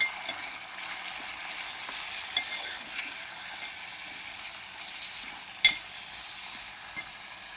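Mutton for biryani sizzles steadily in a hot pan, a soft continuous frying hiss broken by a few sharp scrapes and clinks of a spoon stirring the meat, with no talking.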